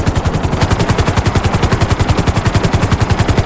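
A heavy helicopter in GTA 5 thumps with loud, rapid, evenly pulsing rotor beats close by, the steady chop filling the whole stretch.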